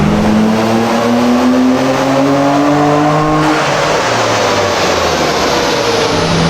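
Nissan R32 GT-R with HKS twin turbos revving hard during a dyno pull on pump fuel, a loud, close, sustained engine roar whose pitch climbs steadily before the tone shifts partway through, with no talk.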